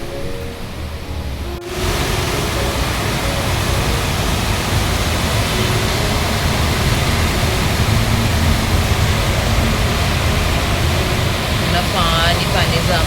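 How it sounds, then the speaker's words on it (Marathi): Heavy rain pours outside a balcony as a dense, steady roar of hissing water that starts abruptly after a quieter moment and continues unbroken at a loud level. "आणि इतका जोराचा पाऊस येतो ना दाखवतो."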